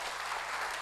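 Seminar attendees at a business event clap in a brief, steady burst, the crowd's applause filling the room evenly and unaccompanied by talk.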